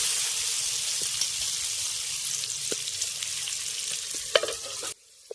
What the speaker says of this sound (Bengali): আলুটাকে একটু লাল করে ভেজে নিলাম